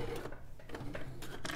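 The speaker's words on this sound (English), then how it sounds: "And then we'll just do a little reverse stitch again." A sewing machine runs a short reverse stitch on a crossbody bag, with quick bursts of stitching broken by brief pauses, close and fairly quiet.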